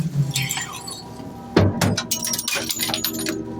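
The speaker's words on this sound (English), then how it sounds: "Oh, glass breaking." Glass bottles breaking and clinking inside a heavy trash truck's hopper, a burst of sharp crunching and tinkling shards over steady rumbling machinery, loud and close.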